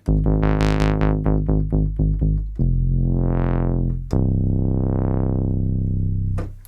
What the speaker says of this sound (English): the first one is a standard subtractive bass voice here, using a square and a saw from these AJH modules